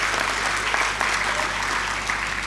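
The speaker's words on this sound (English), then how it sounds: "I think we should give a great round of applause for all these graduates" An audience at a graduation ceremony applauds the graduates with steady, dense clapping from many hands that fills the space evenly and continuously, with no voices standing out.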